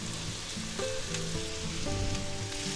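Vegetables for shrimp chow mein sizzle steadily in a hot pan just after being tipped in, a dense continuous frying hiss with some low clatter, close and moderately loud with no talking.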